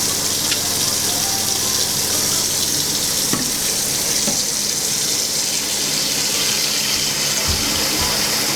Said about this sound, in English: fill the sink with some cold water